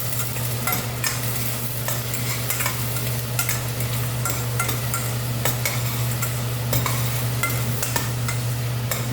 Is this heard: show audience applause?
no